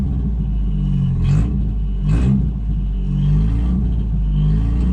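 A 1967 Toyota Corona RT40 engine rumbles and revs up in a few short bursts with the handbrake on, the low growl rising and falling while the car stays in place.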